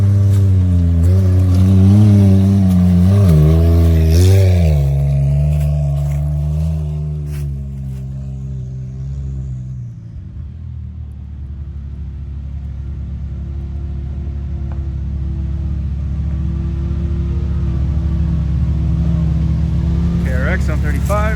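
A Kawasaki KRX side-by-side on 35-inch tires, its engine revving hard and pulling off along a slate rock trail at Tackett Creek, loud and steady before easing to a sustained drone.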